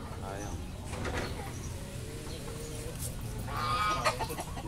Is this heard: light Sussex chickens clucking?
yes